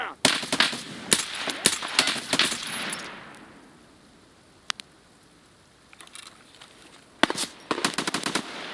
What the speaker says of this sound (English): Bullets whizzing by everywhere.